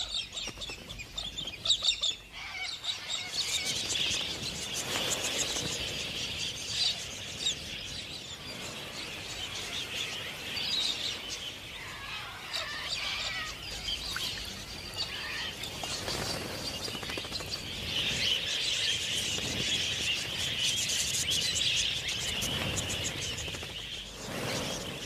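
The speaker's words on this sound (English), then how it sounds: "Galahs seem to have plenty of time for clowning around." A flock of galahs, Australian parrots, calls in the wild with harsh, scratchy screeches and chatter that rise and fall continuously, several birds overlapping at moderate distance.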